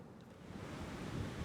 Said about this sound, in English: I could always hear the sound of the waves, what you hear behind now.